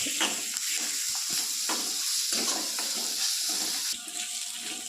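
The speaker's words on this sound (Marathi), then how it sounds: "आलं लसूण पेस्ट टाकू, हिरवी मिरची आणि याला मिक्स करू." Ginger garlic paste and green chillies sizzle in hot oil over softened onions for samosa filling, a continuous loud frying hiss broken by repeated scraping strokes of a spoon stirring the pan.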